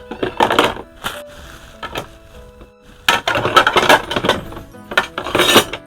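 A new frying pan and other kitchenware being handled, with scattered metallic clinks, knocks and clatter in uneven bursts, separated by a quieter stretch in the middle.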